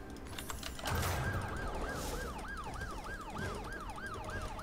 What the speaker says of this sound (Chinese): 这警车跑的也太慢了，